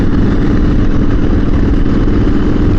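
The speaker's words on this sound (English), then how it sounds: "Now it's a small capacity bike" A small-capacity motorcycle engine runs steadily and loudly close by, holding a rough, continuous mid-range drone with only slight revving swells and no voices.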